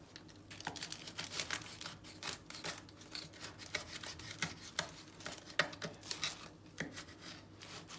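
Repeated snipping of scissors cutting through a crisp lavash-bread pizza, close up, with irregular crunchy cuts and rustling between them.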